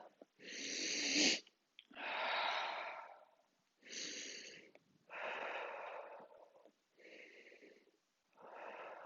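Slow, deliberate breaths during seated chair yoga alternate inhale and exhale, five or six long breathy strokes a second or more each, close and clear with short pauses between.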